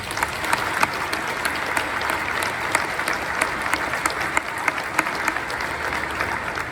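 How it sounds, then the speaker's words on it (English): Crowd at a Navy change-of-command ceremony giving a warm, sustained round of applause, a dense even wash of clapping with occasional sharper claps, steady in level throughout. "Please join me in a warm round of applause to recognize those who volunteered and worked so hard to"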